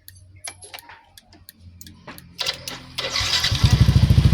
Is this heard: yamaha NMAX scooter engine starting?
yes